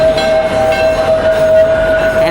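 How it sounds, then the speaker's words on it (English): Millennium Force, a large roller coaster at Cedar Point amusement park, with a full train running; a steady loud rumbling roar with a sustained tonal whine holds throughout, close and continuous, no talk. "this here is Millennium Force, one of Cedar Point's most well-known and biggest roller coasters here in the park."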